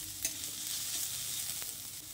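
Onion frying in oil in a pan over low to medium flame, a steady soft sizzle with a couple of faint stirring clicks, close and alone.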